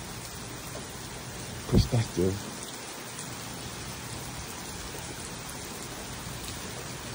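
Heavy rain pours steadily during a thunderstorm over Fort Lauderdale, Florida, a dense constant hiss throughout, with a brief cluster of louder low thumps near the start and a voice speaking faintly under it.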